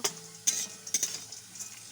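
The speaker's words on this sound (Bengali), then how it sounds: "নেড়ে দিচ্ছি যাতে করে আঠিটা সুন্দর করে ভাজা হয়" Jackfruit seeds fried slowly in a pan over low heat while a utensil stirs them, producing a few close scraping clinks and soft rustles over a faint sizzle.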